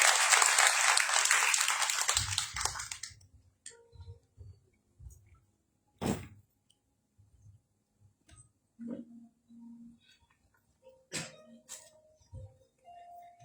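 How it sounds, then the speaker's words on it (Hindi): A worship congregation bursts into applause in welcome, dense clapping that fades after about three seconds. After that come scattered knocks, shuffles and quiet room sounds. "आइए हम प्रभु के दास के लिए हम ताली बजाकर स्वागत करेंगे।"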